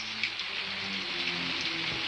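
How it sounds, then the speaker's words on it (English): Steady rain patters on a surface, a soft continuous hiss with scattered drops, faint and unbroken. "it's raining."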